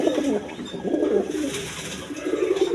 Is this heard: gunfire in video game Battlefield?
no